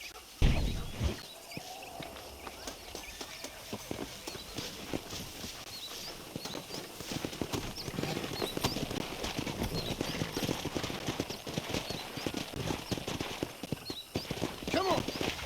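Horses clip-clopping in Red Dead Redemption, steady hoofbeats with an occasional whinny over outdoor game ambience, growing louder and denser as the ride goes on.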